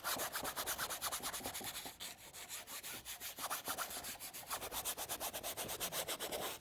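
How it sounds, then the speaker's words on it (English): A paintbrush scrubs acrylic paint medium back and forth across a painted fortune cookie surface, making a steady rhythmic rubbing rasp, close and fairly loud, with brief pauses between strokes and no talk. "And you can hear me scrubbing"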